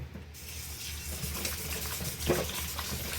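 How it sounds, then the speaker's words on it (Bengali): Water runs and splashes as picked-over meat is rinsed in a kitchen sink, a quiet continuous trickle with brief louder splashes, faint and close. "এই যে মাংস নিয়েছি বেছে, এটা আমি ধুয়ে নেব।"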